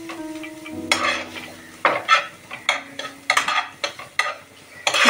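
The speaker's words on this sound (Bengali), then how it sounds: "এবার কড়াইতে আবারও একটু ঘি দিয়ে পেঁপেটাকে ভেজে নেব।" Papaya pieces stirred and fried in ghee in a wok, with repeated scraping strokes of a utensil against the pan over a soft sizzle; several distinct stirring bursts, close and fairly loud, no talking.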